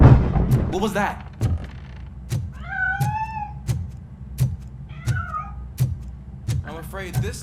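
A cat in the video game RoboCop Rogue City gives two clear, close meows amid a steady series of heavy thumping footsteps or impacts, with someone talking briefly.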